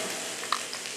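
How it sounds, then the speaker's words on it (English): Mushrooms sizzle in hot grapeseed oil in a pan during a cooking demonstration, a steady broadband hiss with a brief crackle partway through, close and continuous. "And we're just going to throw these down and hear the sizzle."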